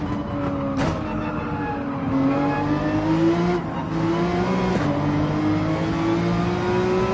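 A BMW Z4 race car engine roars steadily in Gran Turismo 7, its revs climbing through long pulls with brief dips at gear shifts, loud and continuous with no talk.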